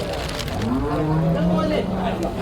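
Young buffalo calves at the Cholakkal cattle market in Manjeri let out a drawn, low moo lasting about a second, heard close against a background of market noise.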